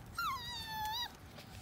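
A miniature schnoodle puppy whimpers once, a thin, high, drawn-out whine lasting under a second, close and clear over a quiet room background.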